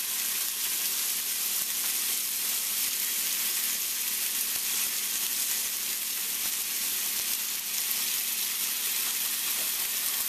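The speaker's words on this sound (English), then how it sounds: "Do you hear that sizzle?" Steady, dense sizzling of chicken kabob meat frying in a hot pan, a continuous crackling hiss with no voices, close and fairly even throughout.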